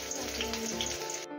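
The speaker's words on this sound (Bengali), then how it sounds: "পেঁয়াজটাকেও আমি লাল করে ভেজে নেব।" Chopped onion fries in hot oil in a wok, giving a steady, close sizzle with no pauses, cutting off abruptly at the very end.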